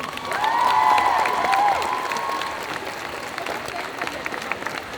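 Audience at a cosplay group contest claps loudly for Bakeneko Cosplay, with cheers and a whistle at first, and the applause tapers off into scattered clapping.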